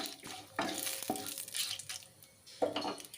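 Bay leaf, dried chilli and whole cumin frying in a wok for a fish curry, giving a soft sizzle with a few brief stirring scrapes and clinks, close and fairly quiet.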